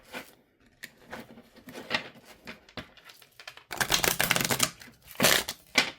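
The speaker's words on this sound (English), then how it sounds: "let's give it a shuffle." A small 36-card Folk Art Lenormand deck is shuffled by hand: soft, scattered riffling and slapping bursts up close, growing louder and denser partway through, with no talking.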